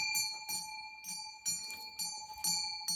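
A small bell ringing rapidly with steady repeated strikes and a bright sustained ring, close and clear, with soft handling noise beneath.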